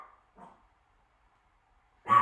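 A pet dog gives a couple of short, moderately loud barks indoors: one brief yelp at the start, a second soon after, then a louder bark at the end. No one speaks.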